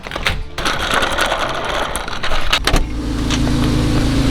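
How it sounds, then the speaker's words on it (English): Acura NSX being pulled out of a garage, a loud close mix of mechanical clatter and clicks that settles into a steady low engine hum with no talk. "I heard Mike was about to pull out his NSX"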